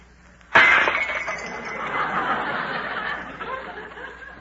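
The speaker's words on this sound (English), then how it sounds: "Suddenly the tray slipped from her hands and went crashing to the floor." A tray loaded with dishes crashes to the floor in an old radio drama, a single sudden loud smash of breaking crockery and glass followed by a long ringing, scattering decay that fades over several seconds.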